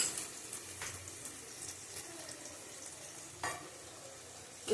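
Water splashed into a pan of sizzling spice mix for chana paneer, making a steady close hiss and bubbling crackle with a few sharp splashes and clinks over nearly five seconds.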